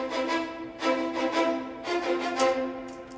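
Viola section playing a short phrase within an orchestral cue in a Tenet-style score, bowed notes swelling and pulsing in a steady rhythm at moderate volume with no voices.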